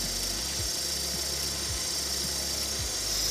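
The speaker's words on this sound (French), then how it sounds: "Notre produit circule et là on l'entend, il est aspiré par le moteur" An engine drawing in intake-cleaning fluid: a steady mechanical hum runs throughout, with a low, regular rhythmic thump repeating roughly every half second and a continuous hiss on top.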